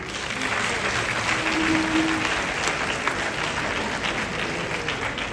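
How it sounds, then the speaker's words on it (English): Sustained applause from a crowd, dense clapping with a few faint voices underneath, steady from start to finish. "One more time, a round of applause."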